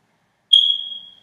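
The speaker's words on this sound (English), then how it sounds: "That beeping. Ugh," A smoke detector gives one sharp, high electronic chirp after a moment of silence, ringing briefly and fading out.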